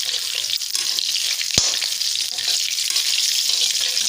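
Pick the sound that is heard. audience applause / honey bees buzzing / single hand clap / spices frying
spices frying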